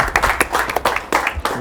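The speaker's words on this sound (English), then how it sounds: "Let's give them both a round of applause." A short round of applause at a poker final table in a casino, a few hands clapping in quick irregular bursts nearby, light and brief.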